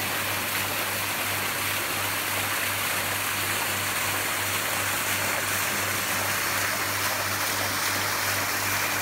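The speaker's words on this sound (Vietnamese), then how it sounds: "Chúng ta nhìn vào cái hồ thác nước đổ ra" A waterfall pours steadily into a garden pond with fish, giving a continuous loud broadband rush that holds unchanged throughout with no voices.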